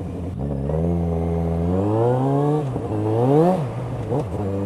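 A motorcycle with a stubby exhaust revs hard in second gear as its rear wheel spins on slippery red tarmac, the engine note climbing in a rising whine, dipping, then blipping again, close and loud with no talking.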